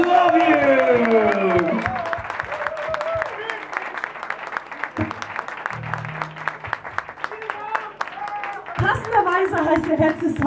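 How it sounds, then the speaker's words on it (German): Concert audience applause at a live show, loud clapping and crowd noise under a speaking voice at first, then continuing on its own before swelling again near the end. "Und ich glaube, das gibt einen extra dicken Applaus."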